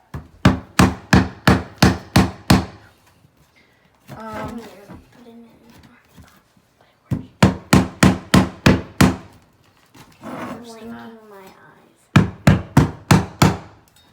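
Bursts of rapid sharp tapping as vinyl flooring planks are knocked together, about six or seven knocks each, alternating with stretches of a voice talking in between.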